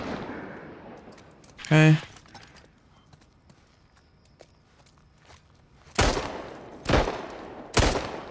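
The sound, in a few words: gunfire in video game The Last of Us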